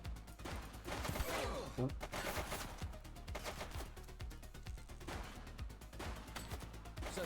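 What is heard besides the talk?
gunfire in a police video game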